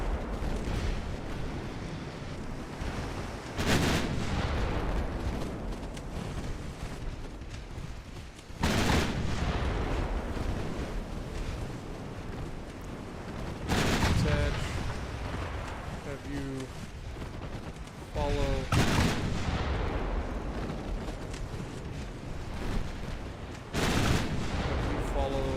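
Naval guns fire in heavy, rolling salvos in the warship battle game Ultimate Admiral Dreadnoughts, with booming shell blasts recurring about every five seconds beneath a continuous roar of combat.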